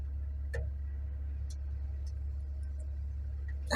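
A Kobelco SK125SR-2 excavator, imported from Japan, runs with its engine held at full throttle, giving a steady, loud, low drone with a few faint clicks and ticks on top.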